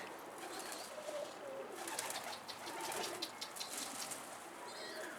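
Wild young pigeons cooing outdoors, soft repeated coos and faint chirps over a steady background hiss, fairly distant and quiet, with no talking.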